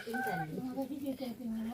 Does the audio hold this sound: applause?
no